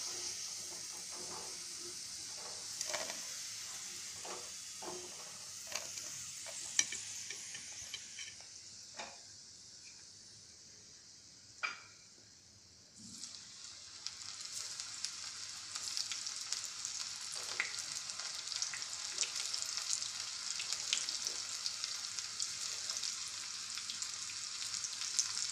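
Bitter gourd chips frying in hot oil make a continuous bubbling hiss with scattered pops and crackles, quieter at first and then a louder, denser sizzle for the remainder, close by with no talk.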